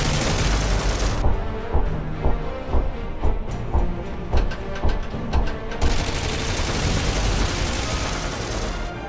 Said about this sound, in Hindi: ये गन 1 मिनट में 800 गोलियां फायर करती है।